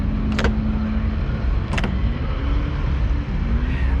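A supercharged Toyota AE86 engine runs steadily and loudly up close, a constant rumbling drone with a couple of brief sharp clicks and no talking.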